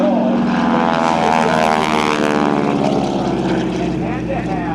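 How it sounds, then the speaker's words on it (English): Propeller airplane rolling at the 2009 AirPower Over Hampton Roads airshow flown by Bill Leff, a loud, close, steady droning engine and propeller buzz with slight pitch shifts, a voice talking over it. "what a great pilot he is as he does his roll and sets up for approach to landing"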